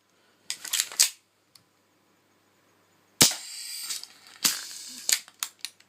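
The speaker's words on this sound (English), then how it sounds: "so you have to hand rack the slide each shot" Airsoft gas blowback pistol fired with an eraser fitted in the barrel, its slide racked by hand between shots: a quick cluster of sharp clacks and snaps, a pause, then louder clicks and gassy bursts, close and with no talking.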